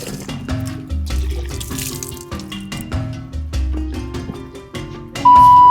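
Water splashes and pours steadily as it is fetched from the Miracle Well, a continuous close wash of running water with a few knocks, ending in a clear steady tone.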